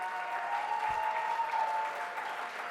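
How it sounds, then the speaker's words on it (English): The crowd at a city's State of the City address applauds after a fire station upgrade is mentioned. Many hands clap in a steady, even patter at a moderate distance, with a faint tone running beneath the clapping. "All right, a lot of clapping."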